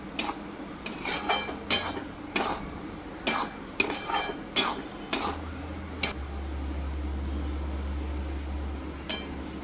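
A wheat flour and crushed jaggery mixture for sukhdi is stirred steadily in a pan with a utensil, making a run of rhythmic scraping strokes up close over a low steady hum, with no voices.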